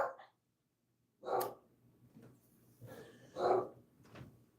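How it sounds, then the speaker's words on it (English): Dogs outside bark in a few separate loud bursts with quiet breathing and gaps between them, fairly close, and there is no talking. "Dogs."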